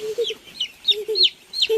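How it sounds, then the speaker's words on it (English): Baby chickens on a farm in India cluck and peep in quick bursts, several short calls close by in an uneven rhythm, with little else around them. "Baby chicken."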